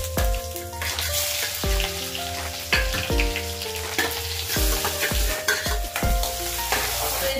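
Cumin and asafoetida spluttering in hot mustard oil in a kadhai, a loud, busy sizzle with sharp pops and scraping clatter as they are stirred, with no voices over it.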